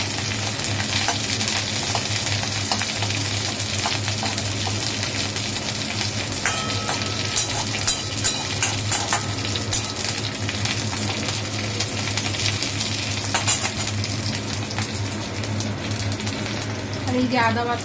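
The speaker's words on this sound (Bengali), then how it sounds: "এবার নিম পাতাটা এরকম ভাজা ভাজা হচ্ছে" A pan of neem leaves fries with a constant crackling sizzle, and scattered clinks and scrapes of a utensil stirring come through now and then; no one speaks.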